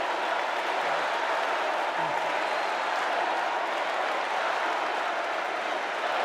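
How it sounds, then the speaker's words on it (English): A large political convention crowd gives a prolonged standing ovation, with dense, continuous applause and cheering filling the hall at a steady, loud level throughout. "There was almost a 5-minute standing ovation from the crowd."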